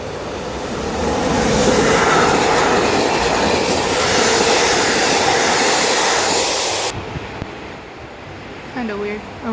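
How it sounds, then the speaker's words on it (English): A train pulls into a station, a loud sustained rumble and rattle of wheels on rail that fills the first seven seconds, then cuts off sharply, leaving quieter ambience with a brief voice near the end. "There's a train coming."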